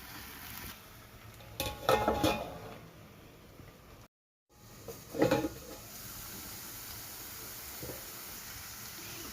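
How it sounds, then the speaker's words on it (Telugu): Gongura pickle stirred and cooked down over a low flame, with quiet scraping and stirring sounds in two short bursts, separated by a brief gap of silence, over faint background hiss. "ఇప్పుడు దీనిని మొత్తం కలుపుకుని లో ఫ్లేమ్లో దగ్గర పడేంత వరకు మొత్తం అంతటిని ఉడికించుకోవాలి"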